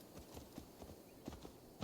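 A horse clip-clops at a steady canter in Assassin's Creed, its hoofbeats soft and fairly distant under a low bed of game ambience, with no voices.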